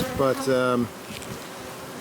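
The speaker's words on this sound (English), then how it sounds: "God, these are really antsy bees though" Agitated honey bees buzz around a caged queen during a queen introduction, a close droning whine that swells loudly for under a second before fading to a faint hum, with a brief spoken word.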